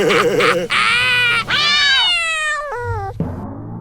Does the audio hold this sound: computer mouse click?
no